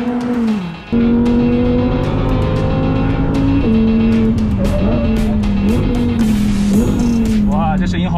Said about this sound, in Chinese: 我们再来试试已经停产的 V10 小牛 Huracan